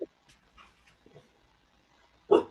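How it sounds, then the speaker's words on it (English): A husky whimpering indoors, faint scattered whines followed by one louder, sharper yelp near the end, close to the microphone with no talk. "it's my husky, but I can't hold him to calm him down"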